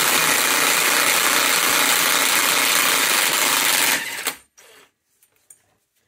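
A power tool, likely an impact wrench, whirs loudly and continuously for about four seconds as it removes a 35 mm half shaft nut on a Ford 8.8 IRS differential, then stops, leaving a few faint clinks.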